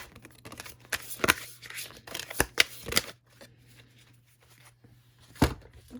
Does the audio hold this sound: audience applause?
no